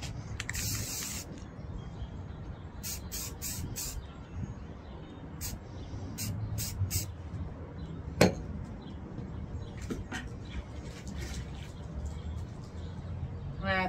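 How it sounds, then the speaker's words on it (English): Short bursts of paint sprayed onto the top of a craft surface decorated with glitter, alcohol inks and color-shift paint, several brief hisses spaced apart under a steady background hum, with a single sharp clink near the middle. "And I'm just going to spray it right on the top."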